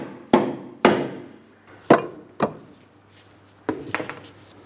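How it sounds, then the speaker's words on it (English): A rubber mallet taps a front bolt into place on a 2003-2007 Cadillac CTS front lower control arm: five firm, dull knocks at irregular spacing, then a softer cluster of taps, close and alone. "Let's use my rubber mallet. We can tap this into place."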